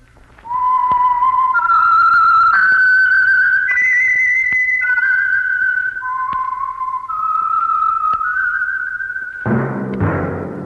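Whistled theme tune announcing the old-time radio mystery program The Whistler, sponsored by Signal Oil: a clear solo melody of sustained, gliding notes, loud and close, with no talk over it, ending in a brief burst of noise.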